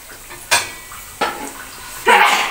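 Spice masala tipped into hot oil in a pot for a rajma and chole feast, with two sharp metal knocks against the pot followed by a rising, loud sizzle of frying.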